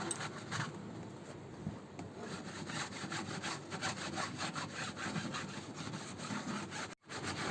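An air conditioner filter net is scrubbed gently by hand during cleaning at home, producing close, continuous soft rubbing strokes in an even back-and-forth rhythm, with no talking.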